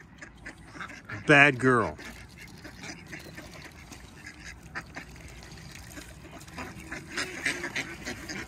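Ducks kept with a Muscovy give one loud, harsh quacking burst near the start, then fainter scattered calls, while someone talks over the scene outdoors.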